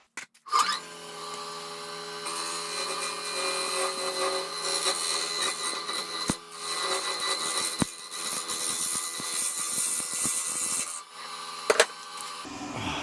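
Carbide cutter on a wood lathe shearing Ohia wood and blue and purple resin, a steady loud rasping scrape with faint tonal hum from the spinning piece, broken by a few sharp knocks and catches.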